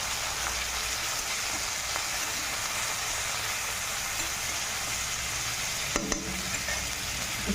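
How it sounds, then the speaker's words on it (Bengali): Cumin, ginger and green chili frying in hot oil in a wok, a steady close sizzle with faint stirring clicks, no voices. "একটু হালকা ভাপিয়ে গরম করে ভেজে নেব"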